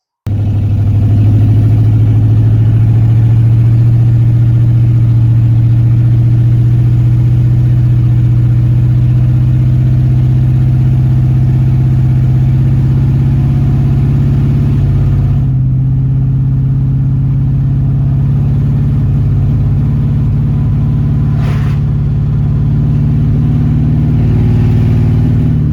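An LS-swapped OBS truck engine on its first drive drones loudly and steadily for the whole stretch, with a brief dip in the middle and no voices.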